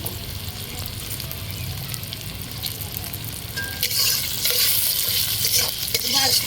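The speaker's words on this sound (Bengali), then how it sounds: "নুনটাকে দিয়ে ভালো করে একবার ভেজে নিচ্ছি" Tomatoes and onions frying with salt in a pan for pav bhaji, a steady close sizzle with stirring that grows louder and brighter partway through.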